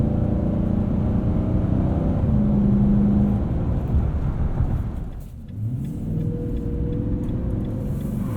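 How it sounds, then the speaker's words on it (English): A 2020 Nissan Titan Pro-4X crew cab pickup launching off the line in two-wheel drive, its engine revving loud and steady under a close, continuous roar, then dipping briefly before climbing again. "Get a little bit of wheel spin there off the line."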